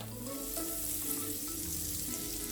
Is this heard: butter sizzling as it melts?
yes